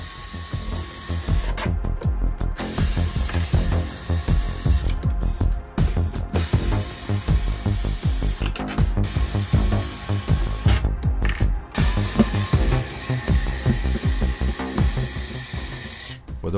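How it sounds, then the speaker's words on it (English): Electric screwdriver removing seven long Phillips screws from a PS3 console casing, a close, continuous buzzing whir with rapid ratchet-like clicking that pauses briefly between screws. "we're going to use our FastTech Auto tool, which is going to save us a lot of time when doing electronics disassemblies, and remove these long Phillips screws"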